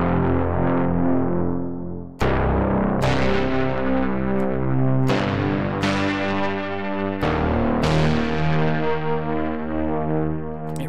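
A distortion patch on Spectrasonics Keyscape keyboard software, played as sustained, gritty chords with a buzzing edge. Each new chord strikes sharply, then rings and decays before the next, without any talking.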